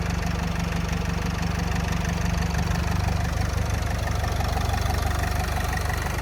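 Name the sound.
van diesel engine idling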